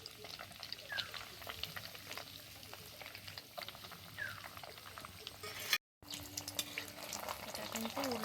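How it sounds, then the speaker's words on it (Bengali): Milk fritters frying in very hot oil, turned over as they cook, crackle and sizzle steadily at moderate level with faint clinks, broken by a short gap near the end. "এটা কিন্তু উল্টে পাল্টে খুব ভালোভাবে ভেজে নিতে হবে,"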